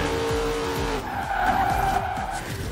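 A Corvette in the racing game Forza Horizon 4 drifts sideways, its tires squealing loudly over the roaring engine for a couple of seconds.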